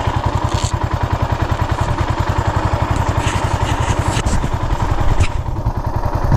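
Suzuki S40 motorcycle being ridden, its single-cylinder engine thumping in a fast, even pulse, loud and close throughout with steady rumble.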